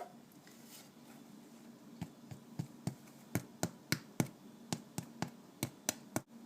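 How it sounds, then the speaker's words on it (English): Sharp hollow knocks and taps as a freshly baked loaf is tipped from its baking tin onto a tea towel, starting sparse then quickening into a run of about a dozen distinct close raps. "We're going to tip it out onto a clean tea towel and listen to it."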